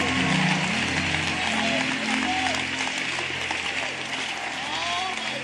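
A church congregation claps for the Bible during an evangelistic service, a dense, sustained wash of applause that fills the room evenly from start to finish.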